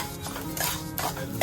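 Sesame seeds are stirred and roasted in ghee in a pot, giving short scraping and clinking strokes over a soft sizzle, close and brief.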